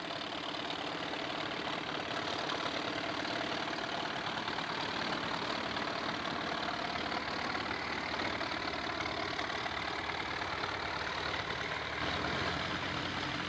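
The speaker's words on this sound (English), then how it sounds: "Now he'll take us for a short drive to prove that the F-2060 really works." A rubber-tired F-2060 tractor engine runs steadily as it drives, a continuous mid-pitched rumble holding constant and fairly close throughout with no speech.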